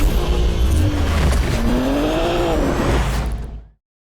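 A BMW Z4 M Coupe with the S54 straight-six revs loudly on the winding Tail of the Dragon road, engine pitch climbing and falling through gear changes close by before cutting off abruptly.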